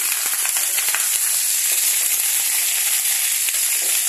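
Vegetables fry in a pan with a dense, even crackling sizzle that stays close and constant, with small popping spatters throughout.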